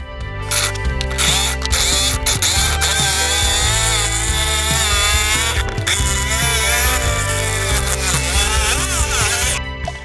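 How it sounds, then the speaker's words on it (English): A jigsaw cuts a circle during a camper build, loud rapid buzzing chatter with stuttering stops and restarts as the blade works around the curve, alone without talk. "Now I'm going to use the jigsaw and cut out our circle."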